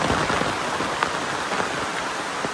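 Steady rain pouring down in a village setting, a close, dense hiss of drops on surfaces with scattered louder splats, continuous and without voices.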